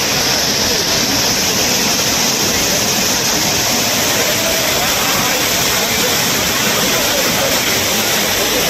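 Heavy, steady broadband rush of water pouring down at the Courtallam falls in Tenkasi district, loud and continuous throughout with no break or distinct events.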